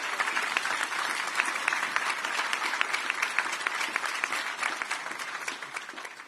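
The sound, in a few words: applause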